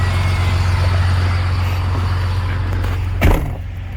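A Ford truck with a Cummins diesel swap, towing a Honda Civic on a rope, gives a loud, steady low diesel drone, heard from close by, with a brief knock or thump near the end.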